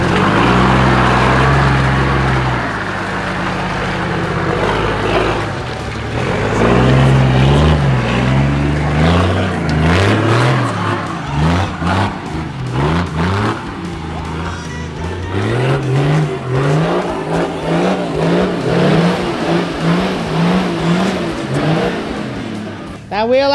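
A 4WD vehicle's engine roars and revs hard while climbing a rutty clay hill, loud and sustained with rising and falling pitch as the throttle is worked, close to the microphone throughout.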